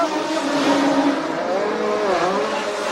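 A 1983 Renault Formula 1 car entering the pit lane, a loud, high, sustained engine whine with shifting pitch as it slows and passes nearby.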